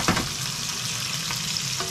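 Meat frying in a pan for a budget meal, a steady close sizzle and crackle with occasional stirring scrapes and no talking.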